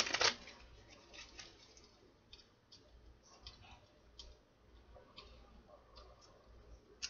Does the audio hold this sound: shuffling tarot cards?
yes